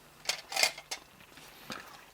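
A spoon stirs lumpy French army ration soup, making a few short, quiet scrapes and clinks against the container, with pauses in between.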